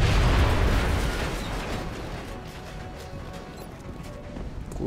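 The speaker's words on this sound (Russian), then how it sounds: "Граната пошла!" A grenade goes off in the turn-based strategy game XCOM: Enemy Unknown with one loud, close blast at the start that decays into a long rumbling, crackling tail of debris.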